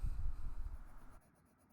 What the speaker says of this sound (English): Continue work with the black pencil. Add some small strokes on the body.